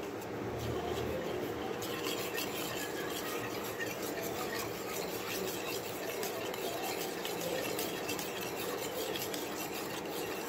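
A spoon stirs homemade lip scrub in a bowl with a steady, close gritty scraping and rubbing that runs on without pause, soft and even throughout.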